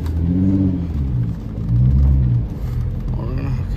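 Straight-piped VW Jetta VR6 engine rumbling loudly while driving, a deep droning exhaust that swells and dips with throttle, close up and continuous throughout.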